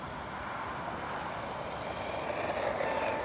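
A cheap, durable RC car's electric motor runs at full throttle, giving a steady high-pitched whine and buzz with no talking.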